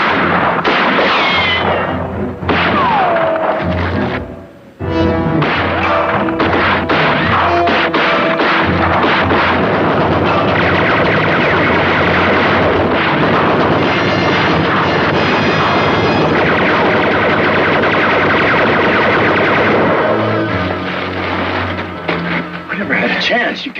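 A Gatling gun fires in a western TV series, dense loud volleys of rapid shots crashing over one another almost without pause for the whole stretch, with a short lull early on.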